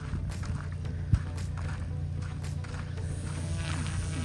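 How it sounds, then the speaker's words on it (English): A weed eater (string trimmer) running nearby in a park, a steady droning buzz that holds at a constant level for several seconds, with one brief knock partway through. "That damn weed eater sounds exactly like my turbo."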